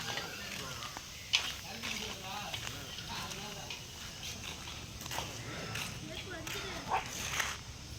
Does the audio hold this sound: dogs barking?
yes